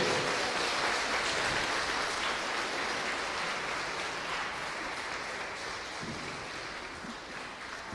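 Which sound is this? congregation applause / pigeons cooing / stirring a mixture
congregation applause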